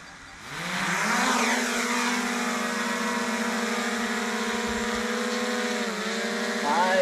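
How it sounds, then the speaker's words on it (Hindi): A DJI Mavic Air 2S drone spins up and lifts off, its propellers rising into a steady, close, high-pitched whine that holds for several seconds and then shifts in pitch near the end as it flies. "तो चलो हम अभी ड्रोन को फ्लाई करते हैं।"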